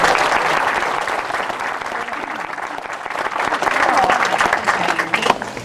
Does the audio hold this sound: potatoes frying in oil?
no